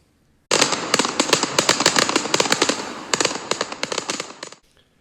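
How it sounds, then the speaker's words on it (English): Rapid bursts of fireworks crackle and pop in a loud, dense volley that lasts several seconds before stopping abruptly. "It's time to release the fireworks."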